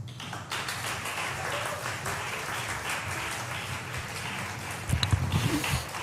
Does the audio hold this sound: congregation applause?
yes